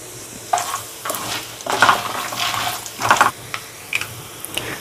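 Mustard seeds, cumin, urad dal, chana dal and peanuts fry in hot oil for wheat rava khichdi, giving a soft sizzle broken by several louder bursts of crackling and spoon-stirring scrapes.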